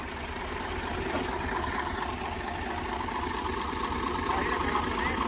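A Swaraj 735 tractor engine idles steadily nearby with a constant low throb and no change in pace.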